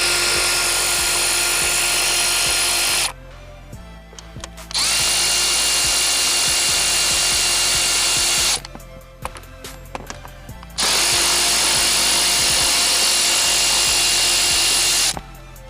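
A power tool with a 7mm socket spins out fasteners beneath the turn signal switch on a Chevy Cobalt steering column, whirring loudly in three long bursts separated by quieter pauses with small clicks and handling noises.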